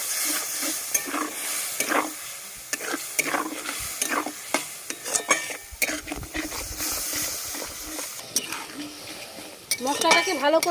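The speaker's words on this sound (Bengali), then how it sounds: "মশলাটাকে ভালো করে কষিয়ে নেব। যতক্ষণ না তেল ছেড়ে দিচ্ছে ততক্ষণ মশলাটা আমি ভালো করে কষাতেই থাকবো।" Spice paste of cumin and turmeric with a little water sautéed in a pan for a jackfruit and prawn dish: repeated spatula scrapes and clanks against the pan over a continuous sizzle, close and fairly loud, with brief voice-like sounds near the end.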